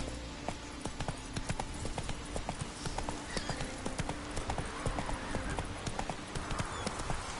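Horse hooves clip-clop in a steady galloping rhythm throughout, with occasional faint whinnies, from a horse ridden in the video game The Witcher III: Blood and Wine, up close over a constant game ambience.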